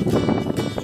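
Strong, humid wind blows at Chilla dam, a small hydro power project in the forest near Rishikesh. It buffets the microphone in a dense, rumbling rush for under a second.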